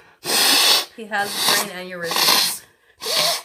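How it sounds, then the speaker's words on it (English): A person blows their nose in several loud, breathy honking bursts, separated by short pauses, while a voice speaks briefly between them. "I gotta blow my nose"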